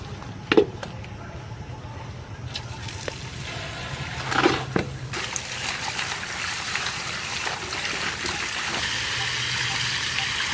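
Fresh field-dug taro being rinsed by hand in water, a steady trickling and splashing with brief louder splashes and sloshes, close by and continuous throughout.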